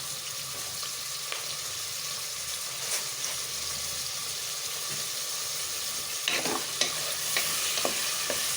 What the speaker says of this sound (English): I'll fry it a bit.